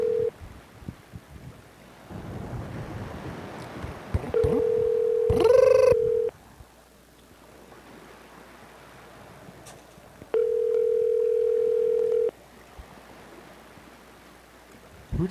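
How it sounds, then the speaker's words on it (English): Ringback tone on a phone call: two long, steady, loud electronic tone bursts about four seconds apart, each lasting roughly two seconds, over a faint hissy line background. "Who decided that was going to be the ring for a phone?"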